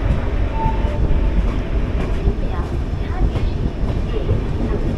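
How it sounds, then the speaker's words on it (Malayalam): The Udyan Express passes on an Indian railway near Solapur, a loud continuous low rumble with steady rolling wheel noise and faint clattering throughout, heard from close by aboard a moving train. "ഇപ്പോൾ ഉദ്യാൻ എക്സ്പ്രസ് ആണെന്ന് തോന്നുന്നു."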